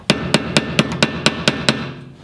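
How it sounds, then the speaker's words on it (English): A hammer strikes a screwdriver to lock coilover adjusting collars on an E30 Touring, giving eight sharp metallic taps in a quick, steady rhythm, close and loud with no talking. "So I am going to use a screwdriver and a hammer as requested."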